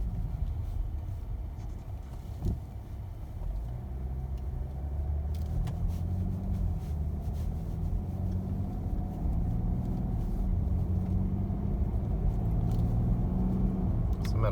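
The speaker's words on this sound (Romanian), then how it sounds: "Place foarte mult cum merge și cum se comportă mașina." BMW F10 535d diesel car with over 300,000 km driving on a road, a steady low engine and road rumble heard from inside the cabin, continuous and fairly loud.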